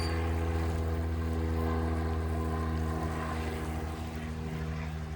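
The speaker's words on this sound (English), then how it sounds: "It's a plane." A propeller airplane drones overhead as a loud, continuous engine hum with steady tones that fade slightly toward the end, and no talking.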